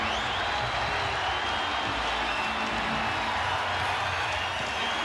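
A basketball arena crowd roars steadily and loudly through the whole moment at a 2004 Western Conference first-round playoff game between the Lakers and Rockets, with no break in the dense cheering noise.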